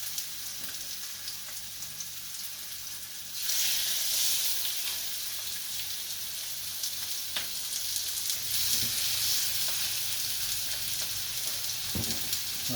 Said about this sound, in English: That sizzles exactly what I want to hear.